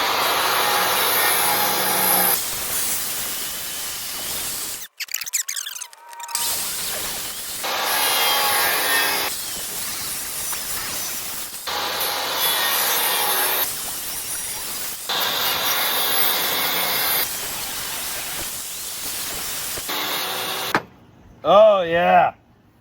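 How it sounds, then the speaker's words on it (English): Table saw cutting wood to square up a knife blank, several long loud passes of steady whining saw noise separated by brief pauses, with a short burst of talk near the end. "now we're going to take it to the table saw"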